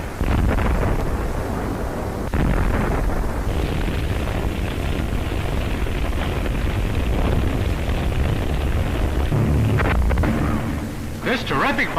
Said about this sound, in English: This terrific bombardment continued for days